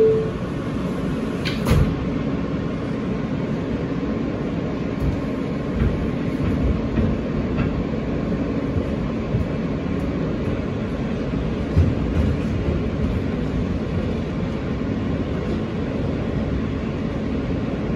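New York MTA subway trains at 36 Street station, including R160B R, R68A N and a rerouted R160A F, produce a steady loud rumble and hiss of rolling stock, with brief clanks and door sounds early on.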